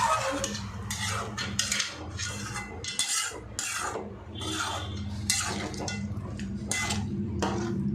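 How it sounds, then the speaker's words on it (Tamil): A spoon stirs mushroom and meal maker gravy in a metal pot, scraping and clinking steadily against the sides, with a loud, continuous rhythm of repeated strokes. "ஆட் பண்ணிட்டு இது நல்லா கலந்து விட்டுடலாம்"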